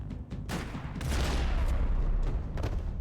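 Gunfire in the video game Max Payne 3, a string of sharp shots and booming impacts, fairly loud with a dense rumbling stretch in the middle, no clear talk.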